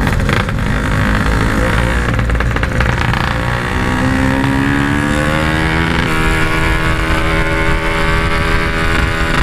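A Yamaha RX King 147 two-stroke motorcycle engine drones loud and close, with rising revs and shifting pitch under steady wind rush, no voices.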